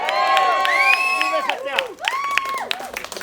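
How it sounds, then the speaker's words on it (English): Wedding guests at a royal Indian wedding in Udaipur Palace break into loud, close cheering, whooping and shouting over scattered clapping, with excited voices rising and falling throughout. "I think everyone should applaud for this"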